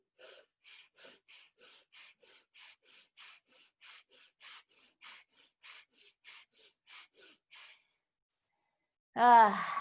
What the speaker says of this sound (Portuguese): Inspirar e expirar rapidamente 10 vezes. É um movimento de hiperventilação.